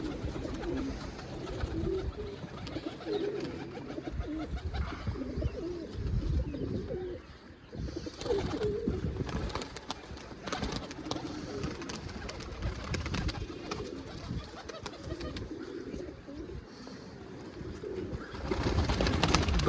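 Pigeons coo softly and continuously in a loft, with a low, steady murmur and occasional flutters and scuffles throughout.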